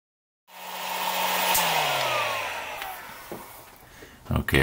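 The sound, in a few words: hair dryer on low heat drying model ship paint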